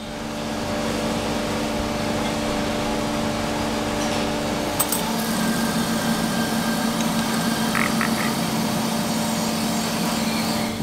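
A metal spinning lathe turns a steel former at about 2,500 rpm while an aluminium disc is pressed over it to make brass instrument mutes, giving a steady whirring drone that shifts midway, with brief scraping squeals.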